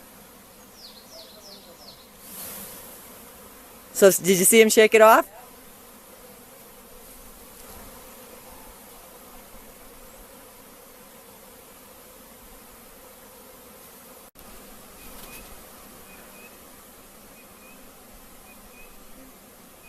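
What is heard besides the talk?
buzzing of a captured bee swarm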